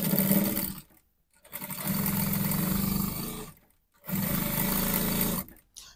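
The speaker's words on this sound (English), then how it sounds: "So the next thing now is just to sew the shoulders together." A sewing machine stitches the shoulder seams of a triangular flare bubu blouse in three steady whirring runs, each broken by a short silent pause, close and loud with no talk.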